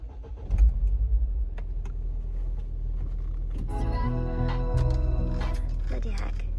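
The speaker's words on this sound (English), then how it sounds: "So you can hear that the belt is a bit loud." A car engine idling after a start, with a noisy drive belt adding a whining, squealing tone over the running motor, fairly close, with a few brief voices in the background.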